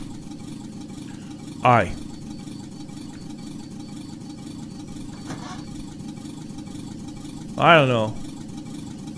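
In The Long Drive, a car engine runs at a steady low idle, with short bursts of speech heard over it.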